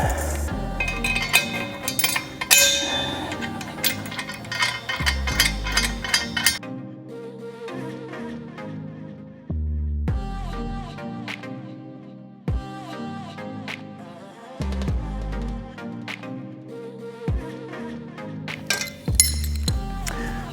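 Metal parts of a Varsity SRV basketball trainer clink and clank during assembly onto its base plate: loud, sharp ringing knocks recurring every few seconds between quieter handling sounds.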